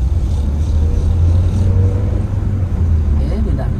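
A Honda Brio's engine runs with a steady low drone from inside the car as it drives and shifts gears, with no clear revving peaks.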